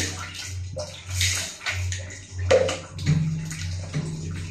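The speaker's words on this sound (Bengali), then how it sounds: "এখন ধুয়ে ফেলবো।" Water splashes and runs in steady surges as a face is rinsed clean after a beauty face pack, close by with no talking.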